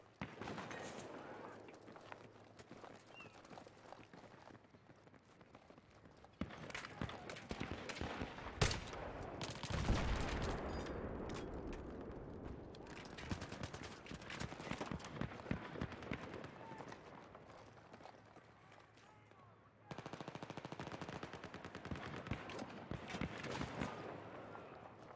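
Rapid video game gunfire with dense bursts of automatic shots and explosive hits, loud and continuous across the clip, with a brief lull near the end before the firing picks up again.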